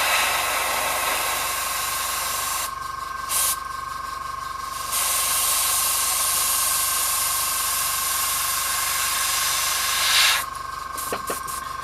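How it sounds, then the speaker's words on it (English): Airbrush hissing as it sprays red paint onto a Blood Angels drop pod model, in two long bursts separated by brief pauses, with short puffs near the end, close and steady. "that's going to be the final step of the airbrushing red"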